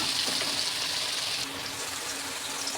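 Potatoes tossed with turmeric and salt frying in oil, a continuous hissing sizzle close by, even and unbroken with no talk.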